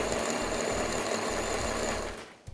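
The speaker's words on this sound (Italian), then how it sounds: "Prendiamo il nostro frullatore e mettiamo il pomodoro" A blender emulsifying tomato sauce whirs loudly and steadily, a dense continuous buzz that cuts off near the end.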